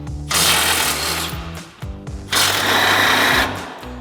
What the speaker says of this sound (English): So we got our 18 mil socket and we'll pop all 3 of those off.